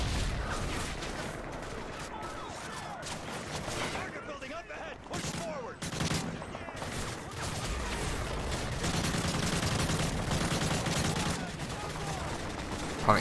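Rapid video game gunfire from Call of Duty: Modern Warfare 3 (2011), sustained bursts and scattered shots with explosions in a dense battle mix, continuous throughout with voices and game sounds layered underneath.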